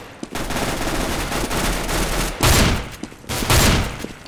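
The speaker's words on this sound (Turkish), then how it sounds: "Oo güzel vurdu." Bursts of automatic gunfire from Counter-Strike: Global Offensive ring out loud and close, with sustained rapid firing early and two heavier volleys near the end.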